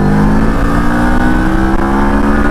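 A 649cc adventure touring motorcycle weighing around 200 kg pulls hard under acceleration, its engine a loud, steady, rising roar heard up close, with no talk.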